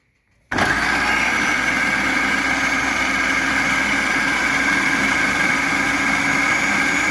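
A food processor whirs loudly and close up while chopping coriander for laksa paste. It kicks in abruptly after a short silence and runs as one continuous motor roar without pauses.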